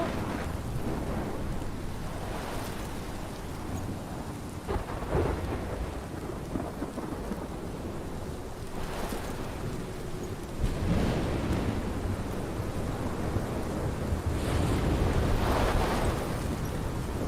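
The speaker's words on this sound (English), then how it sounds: "This is my storm. I caused this." A thunderstorm in the game Life is Strange: steady heavy rain hisses throughout while several deep rolls of thunder rumble and swell, loud and close, with no voices.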